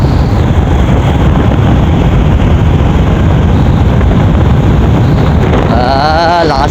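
Strong wind buffeting a microphone outdoors in Sitio Poctol, Cataingan, Masbate, a loud continuous low roar with rumbling gusts, joined near the end by a faint wavering whine.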